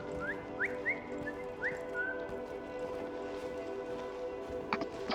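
Short rising whistles call the climbot in the game Cairn, several quick repeated chirps in the first two seconds over a steady ambient drone, followed by faint clicks and a sharper knock at the end.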